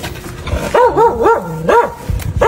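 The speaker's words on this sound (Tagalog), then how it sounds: "May aso." A dog barks and yips in a quick cluster of short, fairly close calls, pausing briefly before a final bark.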